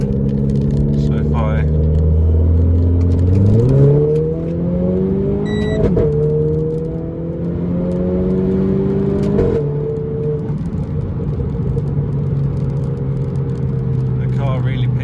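A Renault Clio RS engine revs in race mode with traction control off as the car accelerates, its tone climbing through the gears with sharp shifts in between, loud and close, and a person talks over it.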